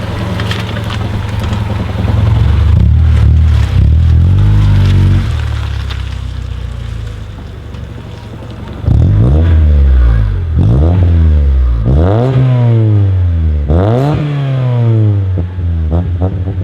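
A Honda Civic fitted with a new exhaust revs repeatedly. A sustained drone gives way to a string of sharp, loud rev blips that rise and fall one after another, close to the car.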